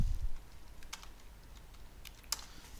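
PHP code is typed on a computer keyboard in quiet, sparse bursts, with a few sharp keystrokes standing out against a faint background.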